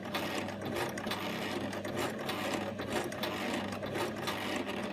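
Sewing machine stitching a fabric sensory maze cuff runs at a steady, fast mechanical patter with rhythmic needle clicks throughout, close and fairly quiet, with no voices.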